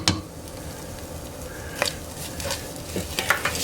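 A spoon stirring ground meat and tomato paste for lasagna in a pot, with scraping, soft sizzling and several sharp metallic knocks against the pot rim.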